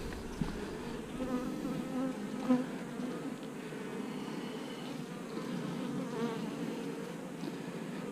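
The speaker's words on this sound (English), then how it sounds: "I've got black bees and regular orange black bees." Honey bees, a mix of black and orange bees, buzz steadily around a nucleus hive in hot weather, a dense, continuous close-up hum that holds its level throughout with no talking.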